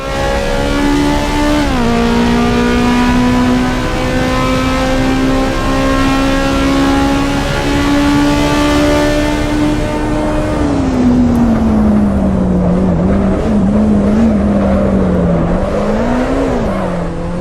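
A race car engine in the Assetto Corsa Evo racing game holds a loud, steady high-revving drone, then drops and wavers through gear changes and throttle shifts in the second half, continuous and close throughout with no talking.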